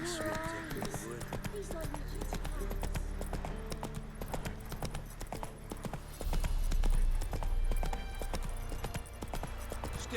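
In The Witcher 3: Wild Hunt on PS5 Pro, a horse gallops with a steady rapid clip-clop of hooves throughout, while voices talk over it.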